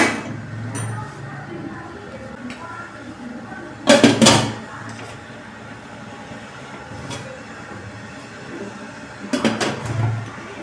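A metal lid clanks down onto a steaming pot, a short clattering burst, followed later by a second clank over a low kitchen hum.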